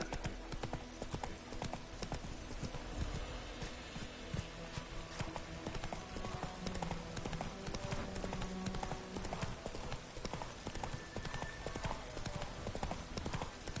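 A horse's hooves clip-clop steadily at a trotting rhythm during a ride in The Witcher 3, mixed with game ambience and faint voices.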